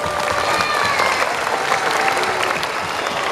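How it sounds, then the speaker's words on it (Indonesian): Lively audience applause at a school's 50th anniversary showcase, continuous dense clapping from a crowd of parents and students, steady and fairly loud with no talk. "Tepuk tangan yang meriah lagi."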